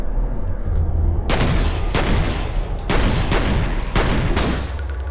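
Pistol shots boom out at a steady pace in the video game F.E.A.R., with five or six loud, close reports ringing over a constant low rumble of in-game ambience.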